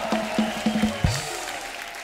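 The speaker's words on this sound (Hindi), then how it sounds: "जोरदार तालियां संगीता जी के लिए हो जाए।" A studio audience on a Hindi comedy talk show claps in short bursts, moderately loud and brief, fading out quickly after a couple of seconds.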